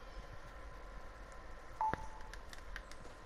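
A mobile phone gives a short electronic tone, a brief beep followed by a faint click, over quiet outdoor background noise.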